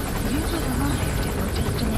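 A helicopter in the video game Metal Gear Solid 5: The Phantom Pain, its steady rotor thrum and buzz droning loud throughout, with a voice talking over it.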